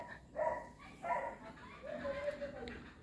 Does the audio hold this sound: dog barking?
yes